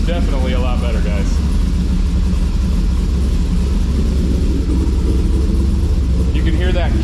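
A cammed Chevrolet Camaro SS V8 with a new exhaust idles with a deep, loping rumble, steady and loud, with people talking over it at the start and end.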